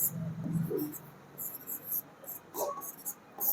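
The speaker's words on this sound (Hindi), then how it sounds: "इसको लिख भी दे रहे हैं," Pen or marker writing on a board during a Hindi-language physics lesson on lenses and ray optics, soft scratchy strokes in short bursts with a faint low voice murmuring underneath.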